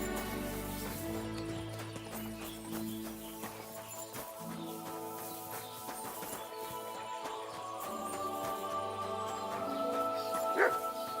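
A dog barks and yips in a medieval open-world game, Kingdom Come: Deliverance II, over a busy ambient bed with horse hooves clopping and a voice speaking.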